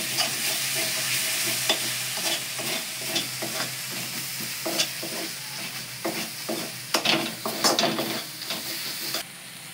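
Spice masala fries in a hot pan with vegetable masala and kasuri methi for homemade ghugni, a constant sizzle broken by repeated scraping stirs of a spoon close by.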